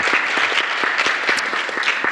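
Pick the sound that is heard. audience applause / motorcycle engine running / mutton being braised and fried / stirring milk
audience applause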